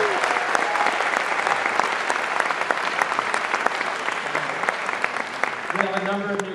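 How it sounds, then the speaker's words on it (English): Dense audience applause at a college spring convocation welcoming new faculty, steady clapping throughout with a few louder claps and a brief voice near the end. "How about a big round of applause for our new faculty?"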